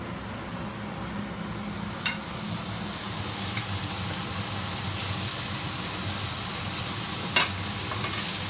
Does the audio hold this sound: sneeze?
no